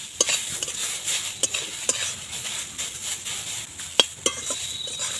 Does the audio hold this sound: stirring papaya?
yes